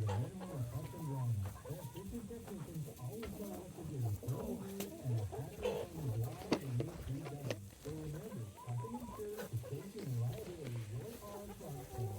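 A chicken near a mobile chicken tractor gives repeated low clucks and gurgling calls throughout at close range, with faint clanks and some talk in the background.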